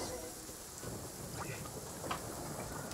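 Rain and thunder in the video game Genshin Impact, a steady broadband hiss of rainfall with a faint rumble, running continuously at low level throughout.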